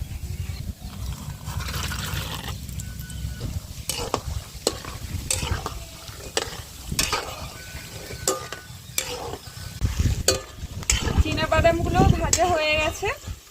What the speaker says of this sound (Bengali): এই চীনা বাদামটা ভেজে নেবো